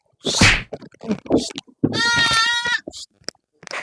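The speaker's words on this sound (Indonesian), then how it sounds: "Anak domba." A lamb bleats once with a long, wavering cry in the middle, set among several people chatting and shouting close by outdoors.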